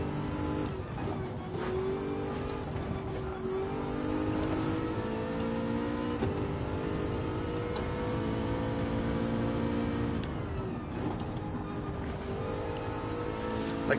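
A car engine, said to resemble a Mustang, droning steadily from inside the car on its first miles, its pitch rising and falling gently as it pulls and eases off, with no one talking.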